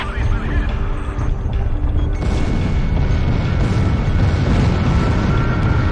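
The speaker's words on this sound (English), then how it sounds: "They're just tossing bombs all over the place." Bombs exploding in the video game Ace Combat Zero, heavy rumbling blasts that merge into a continuous roar under steady aircraft noise, loud and sustained, while a voice talks over it.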